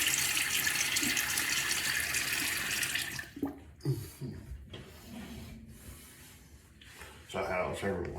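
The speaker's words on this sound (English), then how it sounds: "Let me get my face wet." Bathroom tap running into a sink as hands splash water onto a face before a shave, a steady loud gush that stops, followed by wet rubbing and splashing close by.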